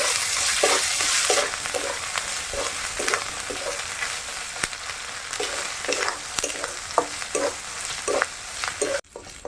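Ginger paste frying in a pan with salt as the base for a homemade duck curry, a continuous bright hiss with regular stirring scrapes, close and steady, ending abruptly.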